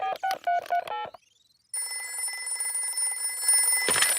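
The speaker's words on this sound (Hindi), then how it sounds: "सुनिए, हम दादा और दादी को फोन करते हैं।" A cartoon telephone plays a quick series of dialing tones, then a short pause before a steady ringing tone begins in the Peppa Pig episode.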